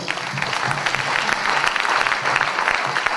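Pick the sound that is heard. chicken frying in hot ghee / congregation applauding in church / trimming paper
congregation applauding in church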